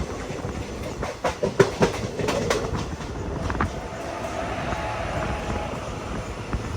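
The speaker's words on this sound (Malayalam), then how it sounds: "ഇതാണ് നമ്മുടെ ട്രെയിൻ എത്തിക്കൊണ്ടിരിക്കുകയാണ്" Train pulling into Kannur railway station on platform one, wheels clacking and rumbling with a few sharp squeals, steady and fairly close with no voices.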